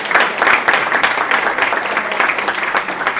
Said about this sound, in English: So if I could have a huge round of applause for these ladies first.